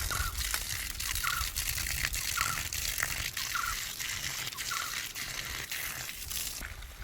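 Water pours and splashes steadily onto banana plants on a Kerala farm, a continuous broadband gush with faint trickling, close and fairly loud throughout, no voices.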